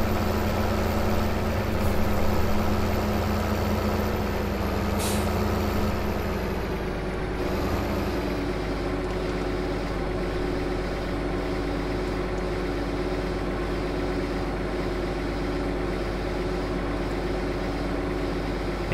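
Tractor engine in Farming Simulator 15, a loud, steady, low diesel drone idling and running continuously, with a brief hiss and a shift in tone midway.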